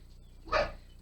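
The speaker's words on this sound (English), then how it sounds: "Sammy, this dog, he's really mad at me" A single short dog bark sounds indoors, fairly close and distinct, rising suddenly over a quiet background and fading quickly.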